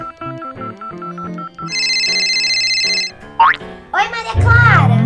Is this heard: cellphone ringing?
yes